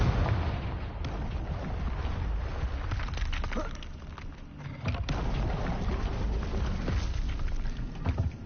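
Repeated Confringo fire-spell blasts in the Hogwarts Legacy video game, a dense run of booming, crackling explosions over a constant rumbling game backdrop, loud and close with a brief dip midway.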